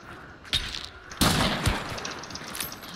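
Martini-Henry rifle fired in the video game Hunt: Showdown: a sharp nearby report with a booming, reverberant tail, preceded by a fainter crack, over quiet ambient game background.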